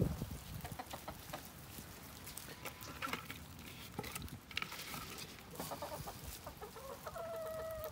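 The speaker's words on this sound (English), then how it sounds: "Good morning, little chickens. Good morning, chickens." Several chickens cluck and murmur softly nearby, scattered calls overlapping at low volume with some rustling, no talking.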